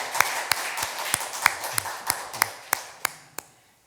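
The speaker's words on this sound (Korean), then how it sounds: "우리 박수로 환영해 주시기 바랍니다." Church congregation welcoming a new member with rhythmic, evenly spaced unison claps, about a dozen sharp beats in a steady beat with a faint wash of scattered clapping beneath, ending abruptly.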